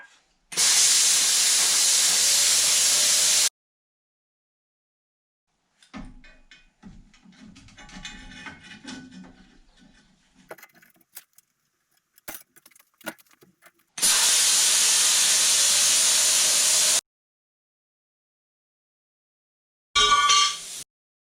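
A steel patch for a Ford F-350 cab corner is cut in two loud, harsh, hissing bursts of a few seconds each, separated by quieter clinks and handling noises, with a short final burst at the end.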